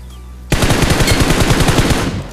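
Rapid automatic gunfire from an enemy bot in BGMI, a loud close burst of evenly spaced shots that starts abruptly after a brief quiet and runs for about two seconds before cutting off.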